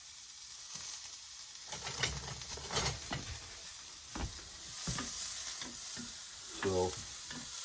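Butter and the white part of leeks sizzling in a pan over the flame while being stirred, a soft continuous fry with intermittent scraping and clinking of the utensil, quiet and close.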